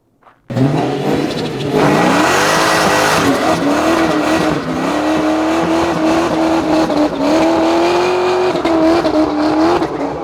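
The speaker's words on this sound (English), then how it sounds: "You want to see a 93 Teal Cobra modified do a burnout." A modified 1993 teal Ford Mustang Cobra does a burnout on old tires, its engine roaring loud and close at high revs while the tires squeal and skid continuously for about ten seconds.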